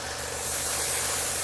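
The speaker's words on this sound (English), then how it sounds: "spray it down with some primer" An aerosol can of primer sprays continuously on a scale model kit, a loud close steady hiss that swells slightly and holds throughout.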